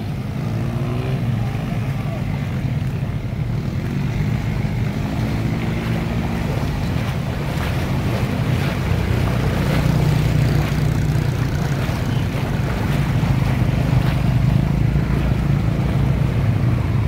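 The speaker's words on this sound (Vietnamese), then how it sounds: "Xe chạy sóng đánh quá chừng luôn." Vehicles drive through a flooded street in Saigon after heavy rain, churning up waves. Water sloshes and surges steadily throughout, mixed with gusty wind noise on the microphone and a low rumble.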